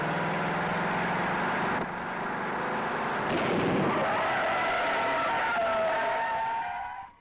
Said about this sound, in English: Tony Tiger challenged me to a panic brake stop.